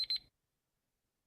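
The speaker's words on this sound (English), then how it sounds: "Abhishek, on the buzzer." Quiz buzzer pressed by a contestant at a live business quiz round in Mumbai, a short bright electronic buzz of about a quarter second with a stutter, then silence.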